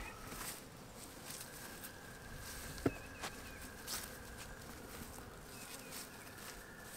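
A swarm of honeybees buzzes in a steady, fairly faint drone from close by, with a few soft knocks and rustles scattered through it and no talking.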